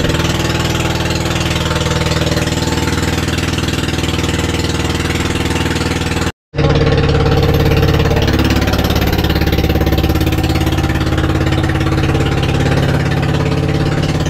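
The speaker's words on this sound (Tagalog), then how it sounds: "So problema, namamalya yung makina natin." A boat engine with a faulty carburetor runs loudly and steadily, its uneven chugging briefly misfiring and cutting out to silence before catching and running on.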